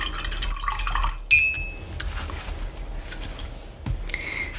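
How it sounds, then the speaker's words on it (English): A small paintbrush gets rinsed in a cup of water, with soft trickling and light clinks against the glass, and a brief clear tap partway through; close and quiet. "let's wash this little brush off"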